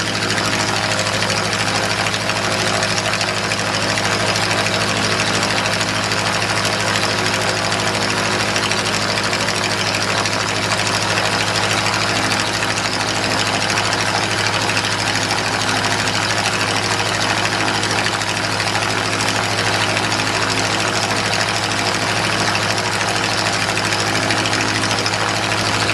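A Les Smoot 4A084 aircraft engine runs at high idle, a loud, steady, close mechanical drone with a constant rapid chattering texture that holds unchanged throughout.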